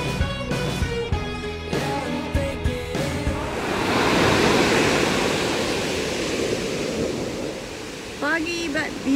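Ocean waves wash in at Navarro Beach on a foggy morning, a steady broad roar of surf with swelling crests, preceded briefly by other sounds and a short tonal noise near the end.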